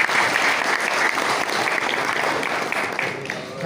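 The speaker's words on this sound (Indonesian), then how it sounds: "Tepuk tangan kepada" Applause from an audience at a PCNU Surakarta evening selawat gathering, steady dense clapping filling the room loudly for several seconds with no voices over it.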